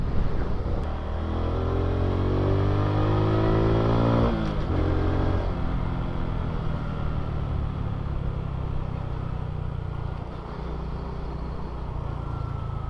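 A small Honda XRM fuel-injected underbone motorcycle engine hums steadily as it is ridden on an uncongested road, with a brief rising rev and gear shift early on, then a constant drone.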